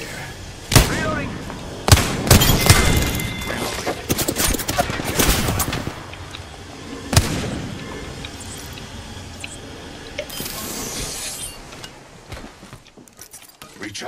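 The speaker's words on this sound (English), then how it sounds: "They're shooting at me?" Gunfire rattles in Apex Legends, a first-person shooter, with sharp single shots and rapid bursts, some loud and close, others fainter, over game sounds and a voice speaking.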